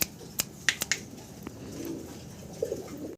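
Fancy pet pigeons at a Bangladeshi pigeon seller's stall give a soft low coo, with a couple of brief cooing bursts near the end, mixed with sharp snapping clicks and light background noise.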